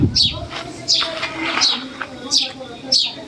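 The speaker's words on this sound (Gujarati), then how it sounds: "જો આ લીંબુડીમાં મસ્ત મજાની ચકલી બોલે છે" Repeated bright chirps from a sparrow in a lemon tree, about five in a steady rhythm, close and clear, with some faint voices in the background.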